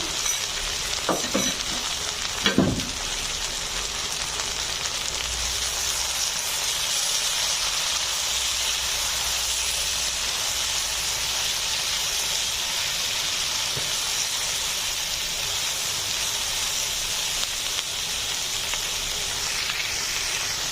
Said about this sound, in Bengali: আমি দিয়ে দিচ্ছি বাঁধাকপিগুলো আমি কিছুক্ষণ ভেজে নেব।